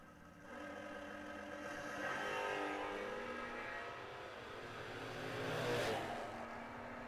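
A 1965 Chevelle Malibu drag car at a memorial drag race, a steady broad engine roar that swells and fades twice, heard from some distance with no talking.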